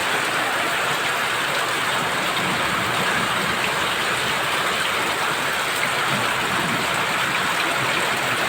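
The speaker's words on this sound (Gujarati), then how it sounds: "ધમાકેદાર વરસાદ પડી રહ્યો છે" Heavy rain pours down in a dense, unbroken roar that stays loud and steady throughout, with no voices.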